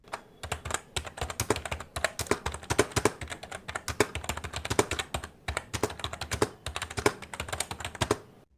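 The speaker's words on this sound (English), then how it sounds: "This is the typing sound." Rapid, continuous typing on an Ant Esports KM580 gaming membrane keyboard, soft clustered keystrokes in bursts with brief pauses, close and clear.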